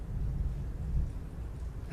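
Thunder rolls as a low, continuous rumble that sustains for a couple of seconds at moderate loudness, with no voices.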